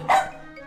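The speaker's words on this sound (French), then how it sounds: "Non, c'est un chien serpillière." A mop dog, a shaggy corded-coat breed, lets out a single short bark close by, followed by a faint trailing whine.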